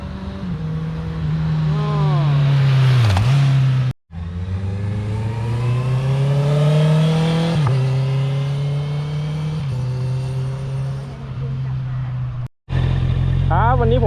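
Honda CBR650R four-cylinder motorcycle engine revving and accelerating nearby, a loud sustained tone that climbs and drops in pitch, broken by two brief gaps, with a voice talking over it.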